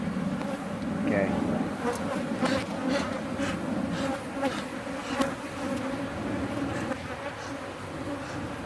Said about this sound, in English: They are an active hive, that's for sure.